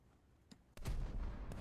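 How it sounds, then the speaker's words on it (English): Naval gunfire in War Thunder: a 76 mm gun firing HE rounds at a destroyer. One sharp boom rises into a loud, sustained roar of blasts and rumble, with a faint earlier pop. "Let's see, 76 millimeter HE, 5 rounds."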